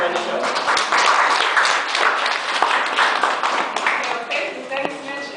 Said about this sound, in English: if you could give her a round of applause